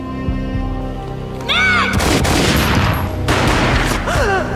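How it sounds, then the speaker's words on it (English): Loud gunfire from the video game Max Payne erupts in booming bursts over swelling game music, with a second blast following about a second later. "A gunshot boomed and she fell down in slow motion."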